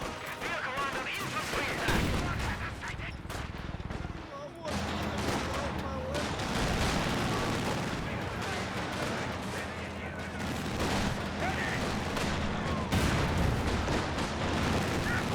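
A ZiS anti-tank gun fires during a Company of Heroes match, its booms mixed into dense, continuous battle noise of gunfire and explosions, with a commentator talking throughout.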